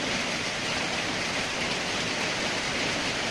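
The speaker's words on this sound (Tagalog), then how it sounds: "Ulan." Steady rain pours down in a dense, even hiss, close and constant with no pauses or voices.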